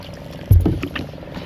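A paddle splashes once through the water as a heavy rowing boat is pushed along a Puducherry waterway, a single short, close slosh followed by quiet dripping and background murmur.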